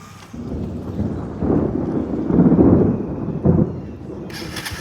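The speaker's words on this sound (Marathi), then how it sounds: "जोरात गडगडला तर आवाज बघा" Thunder rumbles low and long over Nivali village in Ratnagiri during rain, swelling in waves over several seconds before fading, heard at a distance with no talking.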